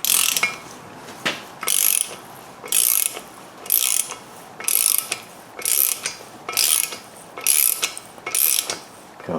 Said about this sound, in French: on y va avec ratchet, douille, peu importe